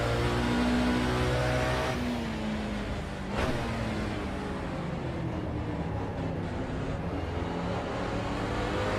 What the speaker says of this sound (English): Listen to that noise. Oh, 7-liter V8.